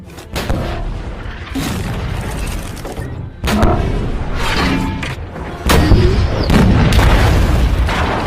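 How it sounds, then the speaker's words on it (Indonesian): Heavy tank cannon blasts boom out in sequence, three loud shots with rumbling aftermath between them, dense and close. "Nedenov berusaha menghindari tembakan tank Tiger"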